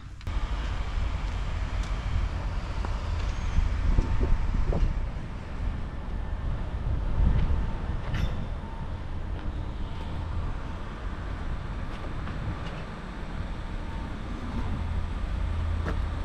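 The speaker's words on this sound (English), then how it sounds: "So standing here, it's a bit windy." Steady low rumbling wind buffeting a small action camera microphone outdoors on an overcast day, loud and continuous with no voices, swelling slightly in the middle.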